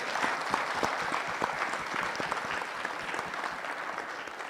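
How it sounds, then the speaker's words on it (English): An audience at a youth and student symposium applauds a panel of young people, with dense, steady clapping that fills the room at a constant level from start to finish. "give these outstanding young people a round of applause"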